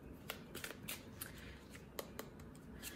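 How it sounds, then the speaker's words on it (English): Thoth tarot cards being shuffled by hand, a run of soft papery riffles and quick flicks with a few sharper card snaps, close and quiet with no talk. "we're gonna shuffle our Thoth, and I'm gonna use tarot for this"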